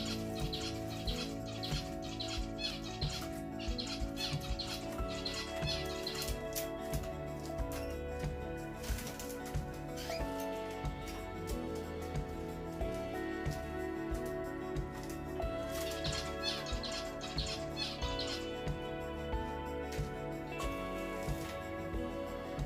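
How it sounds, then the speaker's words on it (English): Finches and canaries chirping and twittering in a steady stream, with bursts of rapid high calls over a continuous busy background, no talking. "Watching them every day is really a delight and really relaxing to me"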